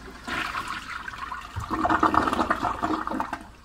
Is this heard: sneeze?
no